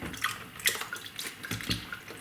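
Water drains from freshly cleaned mushrooms tipped into a sieve, giving a short, close splashing trickle with a few uneven drips and gurgles.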